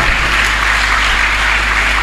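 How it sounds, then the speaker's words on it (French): A church congregation claps loudly and continuously, a close, dense wash of applause that holds steady throughout. "Clap louder."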